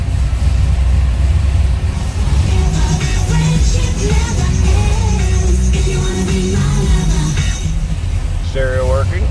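A 1970 Dodge Super Bee V8 idles after a cold start, a steady loud low rumble throughout while someone talks over it.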